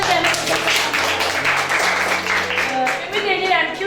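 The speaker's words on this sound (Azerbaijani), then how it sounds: "Alqışlayın" Children in a fourth-grade classroom clap together in a brief burst of scattered applause during a math lesson, with tonal voices and a teacher's speech mixed in over the clapping.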